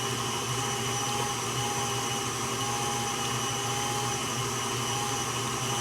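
An electric mixer whisks and creams soft butter for a carrot cake, a steady, close motor whine that runs unbroken the whole time without talk.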